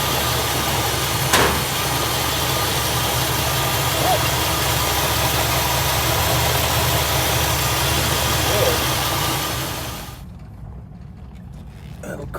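A 1964 Buick Electra V8 fitted with an Edelbrock four-barrel carburetor idles steadily, a low rumbling drone with a sharp click early on, before the sound drops away near the end.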